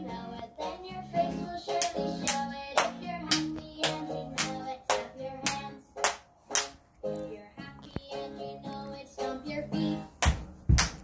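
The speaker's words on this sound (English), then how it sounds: "Clap, baby." Hands clap in a regular beat during a sung children's action song, the sharp claps spaced under a melody and singing voices, fairly close and loud.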